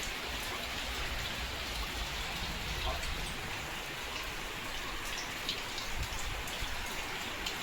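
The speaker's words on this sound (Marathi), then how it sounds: "पाऊस बघ किती येतोय हो." Heavy rain pours down steadily outdoors near a house, a dense even hiss of drops drumming on surfaces with scattered closer splashes, continuous and moderately quiet.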